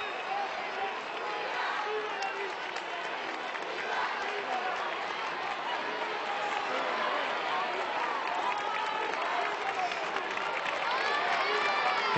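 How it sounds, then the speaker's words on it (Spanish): At a Holy Week procession of the Paso Blanco in Lorca, Spain, a crowd applauds the raising of a banner with a sustained, dense burst of clapping and cheering, while voices carry through the noise. "Escuchan la salva de aplausos que levanta la bandera"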